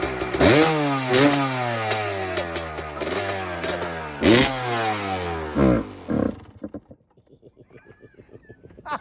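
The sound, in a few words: 2002 Kawasaki KX250 two-stroke motorcycle engine running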